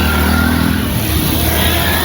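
Loud, dense road traffic with motorcycles and cars near the way to Ranthambore fort, a constant engine roar and hum filling the short stretch with no voices.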